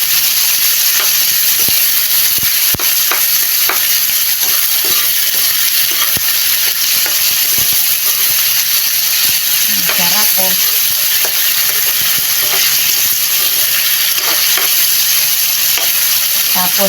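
Tomatoes and onion frying in a pan while being stirred, a steady loud sizzle with hiss throughout and intermittent scraping clicks of the spoon, close up with no talking.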